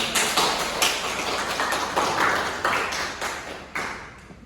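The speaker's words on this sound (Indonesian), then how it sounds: "Beri tepuk tangan untuk." Scattered, uneven clapping from a small classroom audience at a madrasah lesson, with sharp separate claps rather than a dense roar, fairly close and steady for a few seconds.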